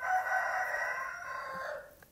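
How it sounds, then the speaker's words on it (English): A rooster on a chicken farm gives a single clear cock-a-doodle-doo crow, moderately distant and alone, lasting about two seconds and trailing off. "That's our main rooster you're hearing."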